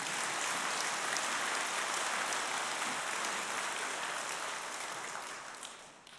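Sustained applause from an audience at a sermon, a soft, even wash of clapping that holds steady and then thins out toward the end.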